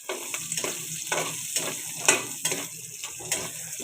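Onion, garlic and ginger sauté in a pan after pork is browned, with a close, steady sizzle and repeated stirring scrapes and clinks, no talking.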